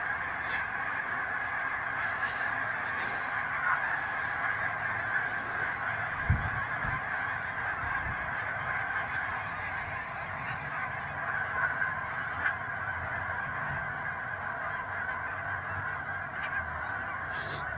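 A flock of geese honks steadily over a lake at a Colorado park, the calls echoing and layered into a continuous, moderately distant chorus that persists throughout.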